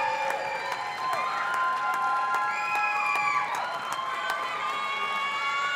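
A large crowd at a Miss Teen USA preliminary pageant claps and cheers steadily, with whoops and shouts rising over sustained applause throughout.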